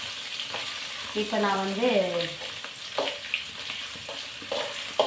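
Fish frying in a pan for a fish curry, a steady close sizzle with occasional stirring scrapes, while someone speaks briefly over it.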